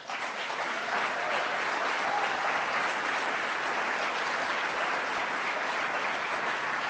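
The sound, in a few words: audience applause during State of the State address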